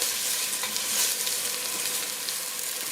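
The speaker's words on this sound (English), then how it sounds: "We're going to sweat the onion for just a few minutes to kind of cook it." Chopped onion sweats in a pot for a pot roast stew, giving a dense, even crackling sizzle that is close and fairly loud and runs without a break, with no voices.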